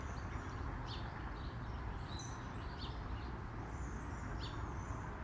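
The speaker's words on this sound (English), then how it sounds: "Can y'all hear the birds?" Birds chirp and call in a backyard near a river by the upper end of Lake Waco, thin scattered tweets above a steady low outdoor rumble, with no talking.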